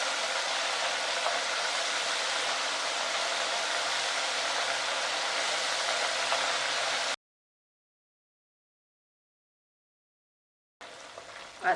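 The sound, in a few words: crispy beef frying in oil for Mongolian crispy beef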